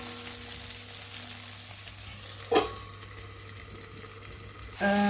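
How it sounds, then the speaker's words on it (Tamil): Brinjal sautés in oil in a pan, a steady soft sizzle with a couple of brief louder clinks or stirs near the middle and end. "கத்திரிக்காய் நல்லா அந்த எண்ணெயில் வதங்கிடும்"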